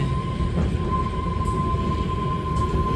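The Kalka Shimla toy train, the Shivalik Deluxe Express, rolls along the mountain railway with a steady, close, heavy rumble and a thin constant whine running underneath, unbroken for the whole stretch.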